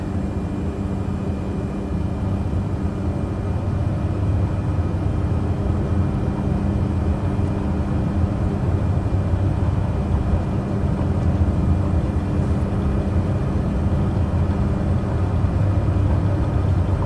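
Light aircraft engine droning steadily as power is smoothly advanced for takeoff down a runway, a continuous loud low rumble that holds throughout with no talking.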